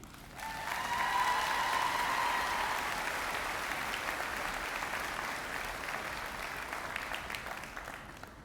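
An audience at a spring graduate commencement ceremony at Millersville University breaks into sustained applause welcoming a speaker, a dense wash of clapping that swells quickly, holds, then slowly tapers off at a moderate distance.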